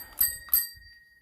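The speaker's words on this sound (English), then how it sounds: "got a bell" Two quick rings from the bell on a 26-year-old Swiss Army MO-93 surplus bicycle, close and loud, each bright ding trailing off into a short fading ring, with no talk.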